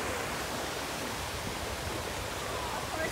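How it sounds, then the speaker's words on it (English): Water runs through the lazy river of a brand-new resort, a constant, even rushing wash with no breaks, fairly close and filling the whole stretch. "And here's your Lazy River, everybody."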